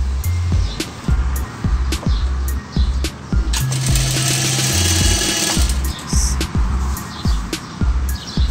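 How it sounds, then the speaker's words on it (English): Sewing machine stitching a curved seam at the fork of a salwar, close rhythmic thumping bursts of needle strokes with short pauses between runs, no talking. "Here you have to stitch in round shape at the fork area."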